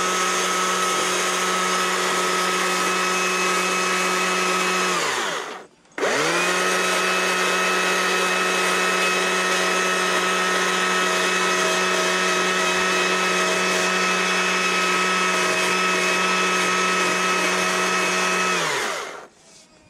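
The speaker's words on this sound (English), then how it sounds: "Using the nose of the bar to kind of just sand." A chainsaw idles steadily while its bar nose sands a wood carving, one long continuous run broken by a brief cutoff near five seconds, then resuming loud and close until it winds down at the end.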